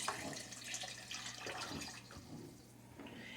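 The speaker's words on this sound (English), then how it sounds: "You want to fill up both of your cans with water, your large ones." Water runs steadily into large empty cans while making spaghetti sauce, a continuous splashing, hissing stream close by with small shifts in pitch as the cans fill; no one speaks.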